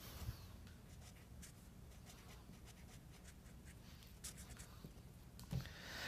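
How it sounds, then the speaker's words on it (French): Pen writing a name on paper, a soft continuous scratching and rubbing stroke heard close and quiet, with a few small taps and no talking. "Alors, je vais écrire son nom."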